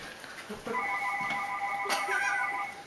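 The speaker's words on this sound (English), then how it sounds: "Telephone ringing." A telephone ringing with a steady electronic tone pattern, moderately loud over a faint background, a brief sharp click partway through.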